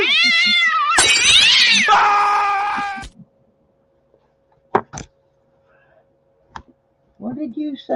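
A cat meows and caterwauls loudly up close for about three seconds, then quiet clicks and faint taps follow, and a voice starts briefly at the end.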